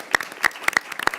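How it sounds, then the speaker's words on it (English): Sparse, scattered hand claps from a small audience at a hearing, a handful of sharp individual claps over about a second. "let's give them an applause for being here."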